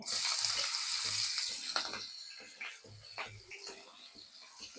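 Mustard seeds, cumin and green chillies fry in a spoonful of hot oil for vada pav, giving a steady close sizzle and crackle with low rumbling beneath and a few faint murmurs.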